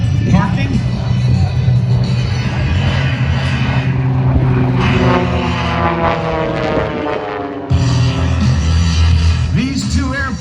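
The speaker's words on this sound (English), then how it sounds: "These two airplanes are very, very different, but they are flying in formation" Two very different airplanes fly in formation at a Blue Angels homecoming air show, propeller engines droning steadily, loud and near, with voices talking over the noise throughout.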